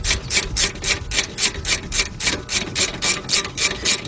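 A wrench tightens 12mm brake caliper bolts on a 2007 Honda Accord during rear rotor work, giving a steady run of rhythmic ratcheting strokes, about three per second, close and fairly loud with no talking.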